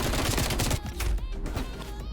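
FAMAS rifle gunfire in the video game Black Ops Cold War: rapid continuous bursts of shots, loud and dense, with brief gaps between strings of fire.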